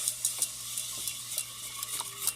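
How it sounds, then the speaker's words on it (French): A spoon stirs sugar and water in a saucepan for a caramel, giving soft, repeated scraping clicks against the pan over a faint steady hiss, close by and without speech. "Dans une casserole, je vais verser la moitié de mon sucre et j'ajoute l'eau."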